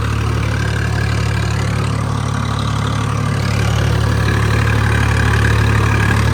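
A Swaraj 855 tractor engine idles continuously at close range, a steady rumble with a constant low hum and no voices throughout.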